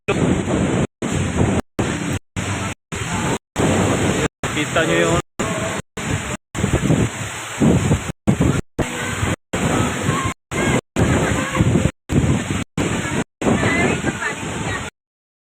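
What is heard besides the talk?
strong wind and sea waves at beach resort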